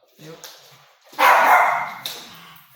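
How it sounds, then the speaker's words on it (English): A dog barks nearby, a soft yip followed by a loud, drawn-out bark and a short trailing one. "Sorry for the barking."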